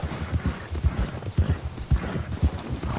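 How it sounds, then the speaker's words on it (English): Horse hooves clip-clop at a steady walking pace through Red Dead Redemption 2, close and fairly loud, with a regular rhythm of dull thuds and no voices over them. "I think my horse is getting kind of agitated again."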